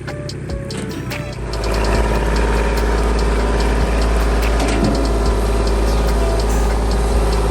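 A tractor engine runs close by, idling low and steady before rising into a louder working drone, with clanks and mechanical rattles from the machine on a country property in winter.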